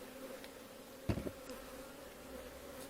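A steady low buzzing of honeybees at a hive hums throughout, with a brief knock or thump partway through, close and fairly faint.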